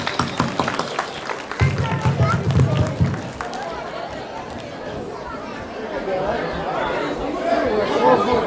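An audience at a Ganesha festival storytelling performance by kids applauds the participants, with steady clapping and crowd chatter mixed with talking throughout.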